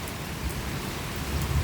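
First big drops of rain falling in a June storm with thunder around, a steady close patter of drops on a surface, with a few slightly heavier hits standing out over a short stretch.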